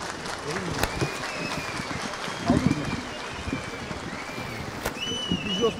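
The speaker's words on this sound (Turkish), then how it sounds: "Güçlü bir alkış rica ederim." Crowd applause at an outdoor flag march in Bursa, scattered clapping mixed with background chatter and sharp knocks, uneven in level with a brief louder swell midway.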